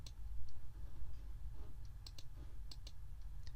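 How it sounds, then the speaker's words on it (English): Mouse clicks on a grandMA2 lighting console screen, a few sharp, faint, close clicks spaced irregularly over a low steady hum. "click in the top left hand corner"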